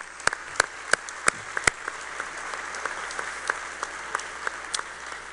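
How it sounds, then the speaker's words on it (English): Audience applause at a symposium, with a sparse, open patter of hands clapping and several sharp, distinct claps standing out close by, thinning slightly toward the end. "So let's give them a round of applause"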